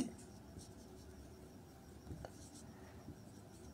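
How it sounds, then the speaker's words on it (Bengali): Soft, faint scratching of a pen writing out answer options for a math problem, quiet and continuous with light strokes against a hushed background. "আমাদের অপশনগুলো লিখে দিচ্ছি।"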